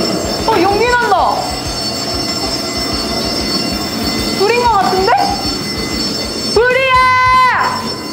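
A subway train rumbles steadily while its wheels squeal in three long, rising-and-falling screeches, the last one the loudest, with a voice faintly audible underneath.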